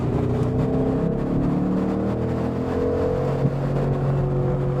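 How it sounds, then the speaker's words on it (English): A Ford Mustang Boss 302 with a V8 engine drones loud and close in a steady, sustained roar with slight swells, and no voices over it. "if it's just going to be 10 minutes of engine noise"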